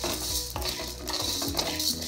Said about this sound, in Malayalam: പൊരി ഉണ്ടാക്കാനായിട്ട് നമുക്ക് ചെറുതായിട്ടൊന്ന് വറുത്തെടുക്കണം.